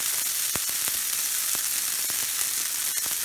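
Food sizzles steadily in a scorching-hot pan on a stovetop burner set to its highest heat, a dense continuous hiss with a few sharp pops and crackles scattered through.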